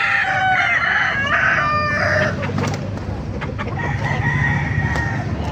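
A one-year-old Hatch gold rooster crows loudly and close by at a Baliuag market, with a long ragged call and other fowl clucking around it and a busy background.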